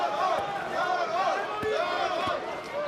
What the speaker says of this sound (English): cheering on Mirko Cro Cop while other fans are cheering on the champion